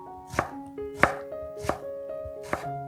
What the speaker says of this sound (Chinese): 首先将黄瓜切片，然后切成条状